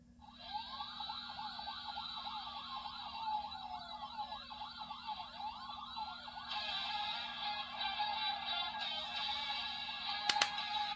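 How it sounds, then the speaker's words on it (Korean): A toy Dekaranger SP License from Tokusou Sentai Dekaranger plays an electronic siren effect, a steady wailing tone over a repeating swooping whoop that runs without pause, close and clear. "이번 사이렌 소리, 사이렌 소리가 같이 들어가 있습니다."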